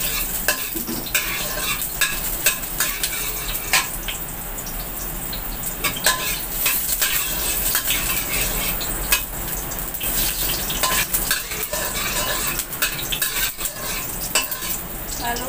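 Chopped ginger frying in hot oil in a pan and being stirred for a beef and onion stir-fry, with a continuous close sizzle broken by repeated scraping and clinking of a utensil against the pan.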